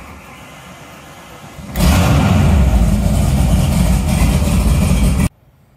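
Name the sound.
outboard boat motor starting and running on flush muffs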